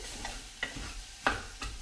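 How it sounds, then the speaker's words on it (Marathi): Quiet sizzling of potatoes in a frying pan with a spoon scraping and stirring in a few separate strokes, each a short scratchy burst. "ढवळून घेत आहे"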